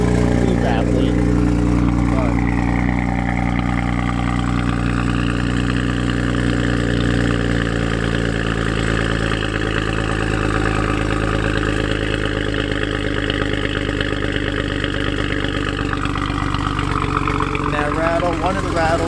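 A BMW 135i engine idles with a low, steady rumble and a rattle from the exhaust around the mid pipe, running continuously close by while someone talks over it throughout.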